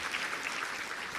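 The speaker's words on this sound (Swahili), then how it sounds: "Piga makofi mengi sana kwa Mheshimiwa Rais tafadhali" A crowd gives the President of Tanzania steady applause at a Dodoma ceremony for receiving EU budget support funds. The clapping is a dense, continuous wash with no voices.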